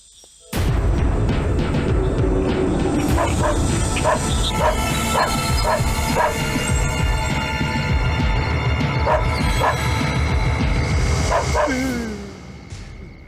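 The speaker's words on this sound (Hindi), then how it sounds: "ये कुत्ता क्यों भौंक रहा है?" A dog barks repeatedly in a tense night scene from a Hindi-dubbed film, a loud run of sharp, evenly spaced barks and yips over a busy background, with a whimper near the end before the noise drops away.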